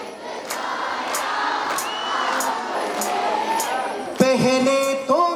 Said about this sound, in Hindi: मैं चाहता हूं ये जितने भी यहाँ पे हैं एक बार मेरे साथ तालियों के साथ गाएंगे